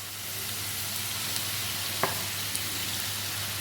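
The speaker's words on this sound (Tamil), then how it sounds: "மசாலா பொடியை சேர்த்து நல்லா கிளறி விடுங்க" Ground fresh masala fries in oil with potatoes for a roast, a dense even sizzle with a few light clinks of a stirring spoon.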